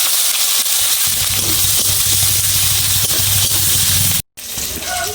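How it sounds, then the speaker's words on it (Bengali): Chopped onions with whole cumin seeds frying in hot oil in a pan, giving a steady close hiss and sizzle that runs almost throughout, broken by a brief silent gap near the end. "পেঁয়াজটা নেড়ে চেড়ে ভালো করে ভেজে নেব।"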